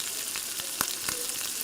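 Chana dal frying in hot oil with fennel, onion, ginger and curry leaves, a soft, steady sizzle close by with a few faint stirring clicks.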